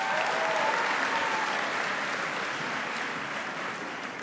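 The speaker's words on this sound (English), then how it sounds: "Please give him a round of applause." A large audience at an all-school assembly claps in a steady, even roar that holds throughout, heard from some distance and fading slightly toward the end.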